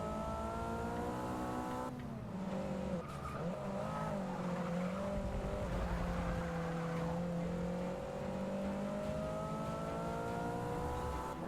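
A race car engine in Forza Motorsport 6 revs steadily upward, dips briefly as it shifts gears and climbs again, a continuous loud whine with tire noise underneath and no talking.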